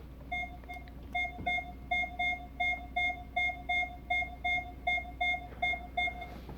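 Minelab Equinox 800 metal detector sounds a run of regular short high beeps, about two per second, as a silver 1899 Barber dime is held close to the coil; clear and alone against faint background.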